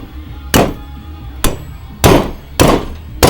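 A hammer pounds a metal bar to bend it while fabricating an e-brake system, five loud, sharp blows spaced irregularly about half a second to a second apart, close by with no talk.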